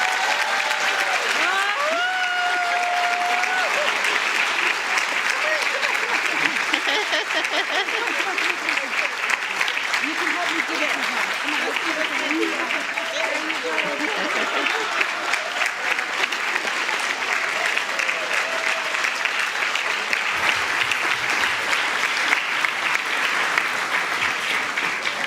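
A school board meeting audience applauds its honorees at a recognition program, sustained full-room clapping that holds steady for about twenty-five seconds, with faint voices and cheers mixed in.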